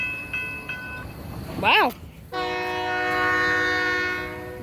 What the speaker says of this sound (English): That was a short train.